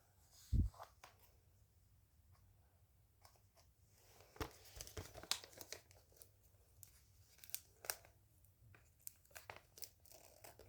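A chocolate bar wrapper being torn open and crumpled, with scattered crinkles, sharp tearing rips and a loud tap at the start, close and quiet in a still room.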